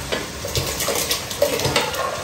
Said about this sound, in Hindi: जब पानी उछल उछल कर आता है ना